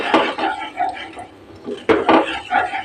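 Chocolate cake batter is stirred in a pan over low heat with a spoon scraping and clinking against the metal in uneven strokes, loud and close, and a brief pause falls in the middle.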